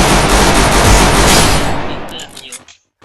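Loud, close bursts of rapid gunfire in the mobile battle game Free Fire, a dense continuous volley that cuts off near the end and leaves brief scattered shots, with a voice talking over it.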